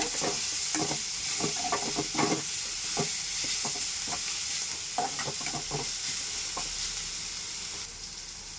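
A ground dried red chilli paste sautés in a pan with a constant close hiss and sizzle, broken by frequent clicking scrapes of a spatula stirring it.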